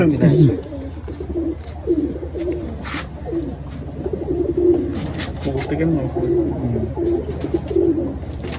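Pigeons coo repeatedly inside a pigeon loft, a steady low burbling chorus close by, with people talking over it.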